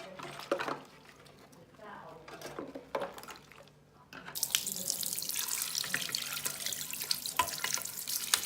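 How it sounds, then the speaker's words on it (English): Running tap water pours into a kitchen sink as plastic PlayStation 3 controller parts are washed, the stream turning steady and louder partway through, with splashes and light clatter from the parts. "So I've washed all the bits thoroughly in the sink with a toothbrush"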